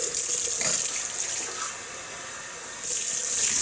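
Tap water runs steadily into a sink while a shaving brush is rinsed, a close, continuous splashing flow that dips briefly in the middle before surging back.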